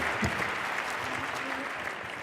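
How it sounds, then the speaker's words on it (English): An audience at a Martin Luther King Jr. tribute celebration applauds pianist Dennis Erickson, a soft, steady patter of clapping heard from a distance with a faint voice underneath. "Ladies and gentlemen, please give Dennis Erickson a nice round of applause."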